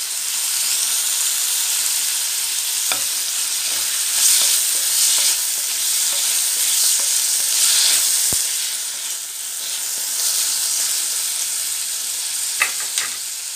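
Chopped tomatoes fry in hot oil in a pan, giving a steady, loud sizzle with scraping stir strokes throughout and no voices.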